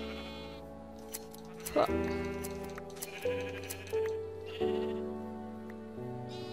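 Several sheep bleat in a Minecraft game, a series of loud nasal cries one after another, close by, with a brief spoken word among them.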